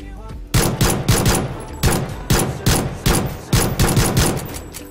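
Loud video-game gunfire comes in rapid bursts of automatic shots, about eight clusters in quick succession.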